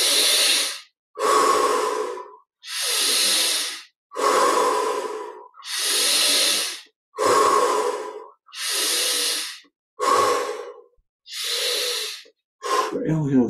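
Deep breathing in a guided meditation, ten slow, loud breaths, each a long airy inhale or exhale separated by brief silences, close to the microphone.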